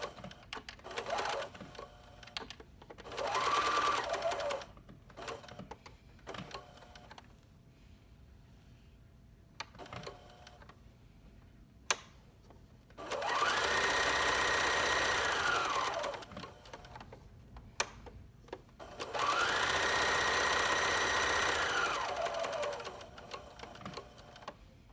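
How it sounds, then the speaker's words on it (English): A sewing machine stitches a seam through felt in three separate runs, each a loud, steady whir lasting a few seconds, with quiet gaps and small clicks between them. "I'm going to start sewing about 1 inch or so away"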